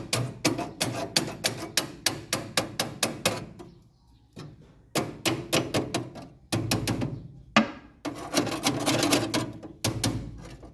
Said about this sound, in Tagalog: Pukpukin nyo lang ng martilyo.